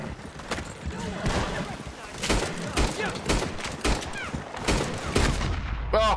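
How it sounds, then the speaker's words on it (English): Shotgun blasts in Red Dead Redemption 2 Online during a delivery ambush: several loud booming shots ring out at irregular intervals amid a noisy gunfight, with someone talking over them. "Got me with the shotgun."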